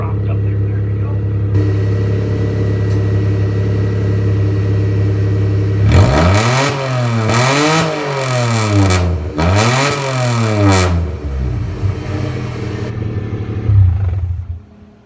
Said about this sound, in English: anytime you cut the exhaust, you gotta have a couple of rips with it wide open, you know, straight piped.